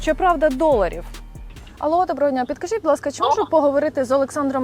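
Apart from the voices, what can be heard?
None of the usual background noises is heard.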